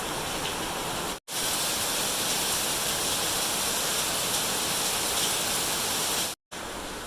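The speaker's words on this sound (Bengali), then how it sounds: "কেমন জল হয়ে গেছে, একদম গাড়ি গেলে মনে হচ্ছে স্রোত, সমুদ্রের মতন এত জল হচ্ছে বৃষ্টিতে।" Rainwater rushing along a flooded street in a steady broadband roar like a current, loud and continuous, cut by two brief silent breaks.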